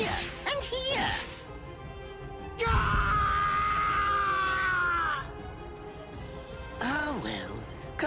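A male character in the video game BLEACH: Rebirth of Souls lets out a long, strained scream that holds for several seconds, set among shorter pained yells and grunts with game music behind.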